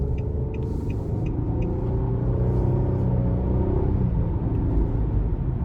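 From inside a 2022 Nissan Murano SL AWD with a CVT, a steady, loud, low engine and road rumble holds under throttle as the car accelerates.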